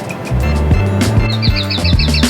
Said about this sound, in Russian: Колонка поет. Это точно колонка